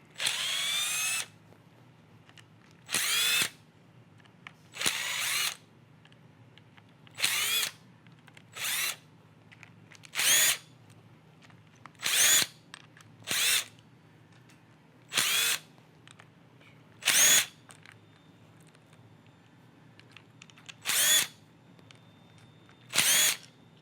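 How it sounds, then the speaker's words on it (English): A power drill backing screws out of the receiver of a Tippmann Cronus paintball marker, whirring in about a dozen short, loud, even bursts separated by brief pauses, close up with no talking. "So I'm going to start off by removing all of our screws that hold the receiver together."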